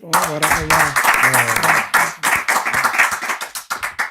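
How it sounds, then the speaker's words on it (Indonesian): Rhythmic clapping for Ustadz K at a commentary session, a steady run of sharp hand claps mixed with a voice talking over it, close and fairly loud. "Tepuk tangan buat Ustadz K."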